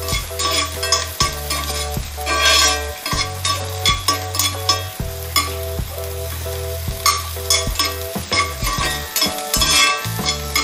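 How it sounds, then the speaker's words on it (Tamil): Onions sautéing in a cast iron pan, a steady close sizzle broken by repeated scraping stirs and occasional metallic clinks of a spatula against the iron, loud and continuous with no talk. "நல்லா எல்லா பக்கமும் அந்த வெங்காயம் படுற மாதிரி வதக்கி விடுங்க"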